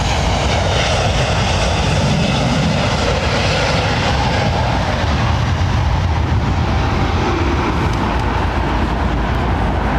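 A jet airliner takes off at London Heathrow Airport in a crosswind, crabbing on departure, and its engines give a loud, continuous roar that holds steady throughout.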